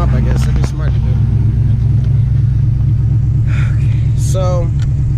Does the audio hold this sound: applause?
no